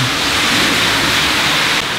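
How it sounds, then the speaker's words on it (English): Steady, dense rainfall hisses continuously and evenly, loud and close, with no voices. "rain."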